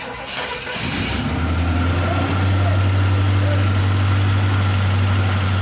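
An old project car's carbureted engine cranks briefly, catches and settles into a steady high idle on choke, with a constant low drone running close and loud to the end.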